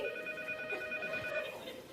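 A mobile phone rings steadily with a bright electronic tone, fairly clear over a faint background hum, with no talking.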